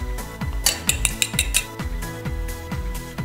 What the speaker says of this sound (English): and whisk.